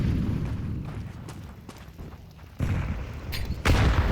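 A grenade detonates on the Dust2 map in Counter-Strike, a deep, loud boom with rumbling low end, preceded by softer in-game gunfire and movement sounds.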